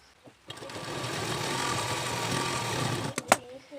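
A sewing machine stitches a folded edge of blouse fabric in one steady, close run of about three seconds, followed by a few sharp clicks and handling knocks after it stops.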